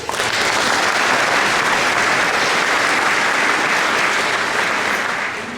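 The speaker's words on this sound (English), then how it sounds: "Can we all just applaud?" Sustained applause from an audience at a middle school town hall in Marion, Iowa, filling a packed room loudly and evenly for several seconds before tapering slightly.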